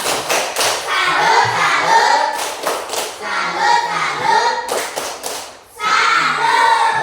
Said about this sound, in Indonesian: Tepuk salut untuk Dinda